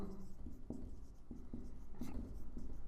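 Chalk or marker scratching across a classroom board during a maths lesson, a run of short strokes and taps with a few sharper knocks, steady and close, with no talk over it.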